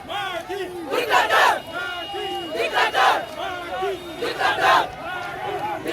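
A large crowd of young protesters in Ziguinchor, defying a prefectoral ban on marching, shouts and chants loudly in rising and falling waves of many voices, close and continuous.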